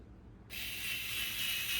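Screws being driven by a power tool into an RC crawler chassis for an Axial SCX10 Pro with a Rock Pirates RC Kraken chassis, a steady high-pitched ratcheting whir that starts abruptly and runs continuously, close and fairly loud.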